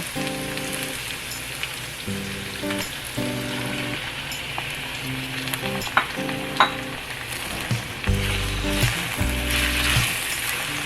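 Thinly sliced chicken frying in a pan for Thai spicy basil fried rice gives off a steady, close sizzle with occasional stirring clinks, under soft background music.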